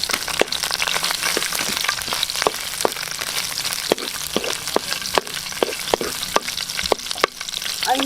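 Garlic and onion sautéing in a hot pan, a steady close sizzle and fry hiss broken by repeated sharp scrapes and clacks of a stirring utensil.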